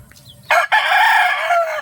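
A rooster crows loudly and close by, one long sustained call after a brief pause, with faint clucking from hens just before it.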